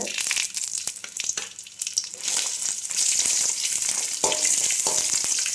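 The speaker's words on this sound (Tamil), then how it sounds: "மிளகாய் கூட பூண்டையும் போட்டுடலாம் பூண்டு கொஞ்சம் வறுபடுறதுக்கு லேட் ஆகும்" Chillies and garlic frying in a pan for idli podi, heard as a close crackling sizzle with stirring clatter that grows denser and hissier partway through; no one talks.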